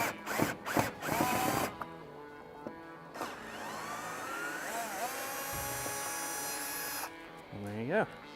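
A power driver fitted with a T30 bit whirs in short bursts and then longer spinning runs while removing roof rail bolts on a Land Cruiser 100 Series, close and fairly quiet, with speech in between.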